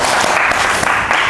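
Audience applause at a talk show recording, a steady wash of clapping from many hands, loud and continuous with no talk over it.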